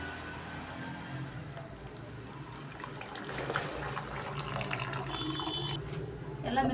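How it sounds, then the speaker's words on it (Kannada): Tamarind juice is poured into a pot of bisibele bath, giving a soft, steady liquid trickle that grows slightly louder midway, quiet and close with some background noise. "ಈ ಥರ ಹುಣಸೆಹಣ್ಣಿನ ರಸ ಹಾಕ್ತಾ ಇದ್ದೀನಿ."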